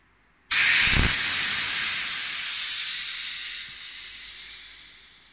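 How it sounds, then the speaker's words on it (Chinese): Gas vented from an oxygen bomb calorimeter used for coal heat-value analysis: a sudden loud, steady hiss that starts abruptly and slowly fades over several seconds, heard alone. "先放气。"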